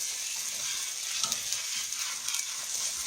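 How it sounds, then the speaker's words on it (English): Thickening potatoes are stirred in a pot on the stove, giving a soft, steady sizzle and bubbling with a few faint scraping strokes, close by and with no talking. "All right, we're going to stir it, and I'm going to just add a little bit at a time."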